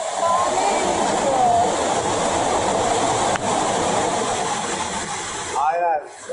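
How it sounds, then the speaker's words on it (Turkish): A waterfall pours down a mountainside in northern Thailand, a steady broad rushing roar that carries on without a break, with a voice speaking over it. "Efsane bir şelale."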